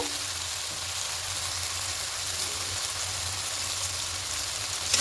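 A cauliflower and potato curry frying with salt in a pan, a steady rain-like sizzle that stays even and fairly close throughout, with no talking.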